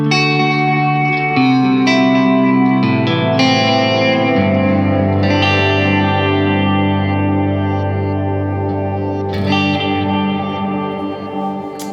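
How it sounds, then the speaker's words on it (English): Electric guitar played through a pedalboard with Strymon Timeline delays all engaged, producing sustained chords and notes that smear into dense repeating echoes and lingering reverb, loud and alone. "I'll just give you a quick demo of this, what it sounds like with all the pedals on."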